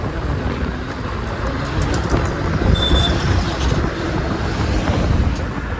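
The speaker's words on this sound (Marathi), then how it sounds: "पण ही ट्रॅफिक करायची लागली काय माहिती सकाळ सकाळी काल नव्हती ट्रॅफिक" Continuous road traffic on a morning street, heard from a moving Aprilia 175 scooter, with a steady engine and road rumble plus wind buffeting on the microphone.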